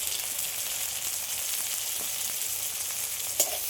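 Tomatoes fry with salt, turmeric and chilli powder in a pan, giving a steady soft sizzle throughout and one brief clink of a utensil near the end, close by and without speech.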